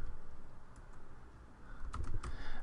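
Fingers type on a computer keyboard, a quiet scattering of soft clicks that grows busier toward the end, with no talk.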